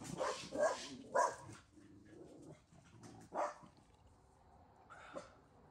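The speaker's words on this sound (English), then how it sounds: "They're barking at the bird actually." Several dogs bark in sharp bursts at a bird, close by and fairly loud, with a few spaced barks then quieter yips and whimpers between them.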